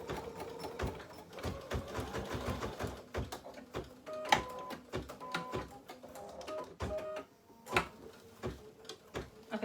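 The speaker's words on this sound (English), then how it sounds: "I'm gonna stitch that again because it skipped a couple stitches right there at the beginning" A home embroidery machine re-stitches a line after skipping stitches, giving a rapid mechanical ticking and clatter with uneven bursts and pauses, close and fairly quiet, with no talk.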